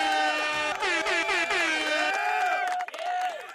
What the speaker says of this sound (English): Maybe an air horn.